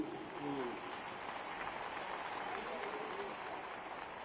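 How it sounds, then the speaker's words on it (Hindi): Applause from the audience at a Hindi kavi sammelan poetry recital in Raipur rolls on as a dense, steady clatter of many hands, with a voice faintly audible near the start. "तालियां बहुत बजाइए"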